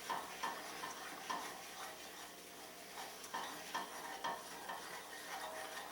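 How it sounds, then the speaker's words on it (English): A spoon works a flour roux around a pan, producing soft, close scraping and stirring strokes in an uneven rhythm over a faint sizzle, with no talking. "Good roux, you really want to get the flour all mixed in."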